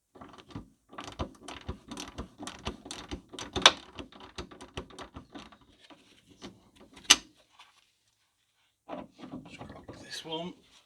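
Ratcheting clicks from a T30 Torx tool working corroded drop link nuts on a Ford C-Max rear anti-roll bar, rapid close pawl ticks with a couple of sharp knocks, then a pause.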